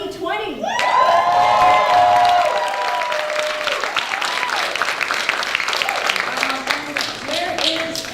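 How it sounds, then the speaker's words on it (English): Audience at a community panel kicking off a class-of-2020 event breaks into applause and cheering, loud and sustained after an opening shout, with whoops and voices mixed in. "huge round of applause for her too"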